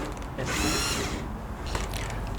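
A screw is backed out of a window bead with a small power driver, one short whirring burst followed by a couple of faint clicks, close and fairly quiet.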